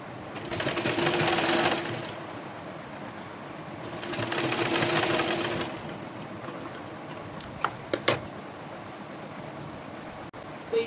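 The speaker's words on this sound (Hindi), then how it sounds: "अब इसके ऊपर सिलाई चला लूँगी" A sewing machine stitches fabric for a dhoti salwar in two sustained whirring runs, the first about two seconds and the second about two and a half, each followed by quieter handling noises and a few clicks.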